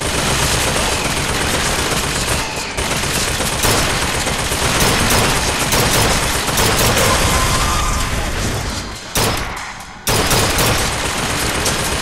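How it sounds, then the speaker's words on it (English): An automated turret in BioShock Infinite fires loud, sustained rapid bursts of gunfire nearby, with a brief break near the end before the shooting resumes. "Apparently there's a turret up there."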